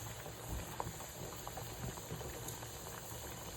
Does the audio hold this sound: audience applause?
no